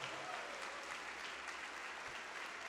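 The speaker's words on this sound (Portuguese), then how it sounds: "Vamos aplaudir mais ao nome de Jesus." A church congregation applauds steadily, a dense wash of clapping that holds at an even level throughout, with no talk over it.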